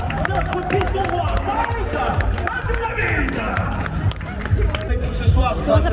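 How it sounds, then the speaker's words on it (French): A large crowd at an RC Lens versus FC Nantes football match claps and cheers for a player, with dense continuous applause and crowd noise and people talking nearby throughout. "Merci de faire un tonnerre d'applaudissements à notre piston roi"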